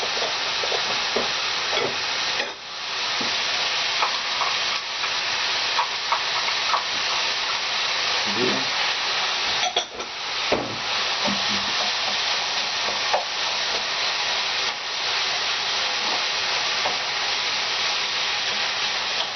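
Potatoes and onions fry in oil in a pan, giving a loud continuous sizzle and hiss with occasional scraping stirs and clacks, no speech.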